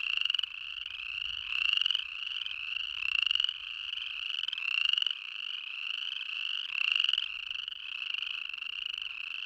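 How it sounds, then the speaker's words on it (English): Chorus frogs in Yellowstone call together in a dense chorus of repeated rising trills that pulse in overlapping waves, steady and moderately loud against a quiet background, with no talking. "when they really get going, the sound can be intense"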